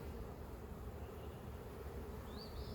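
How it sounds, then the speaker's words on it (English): Honey bees buzzing steadily and fairly loudly during a late-April hive inspection, a continuous dense drone with no talk over it. "All right, a lot of bees."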